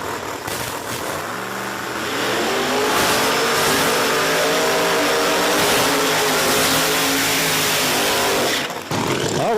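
Drag racing car making a full pass down the strip at Virginia Motorsports Park during an Outlaws event, a loud sustained engine roar climbing steadily in pitch as it accelerates away, then cutting off abruptly near the end.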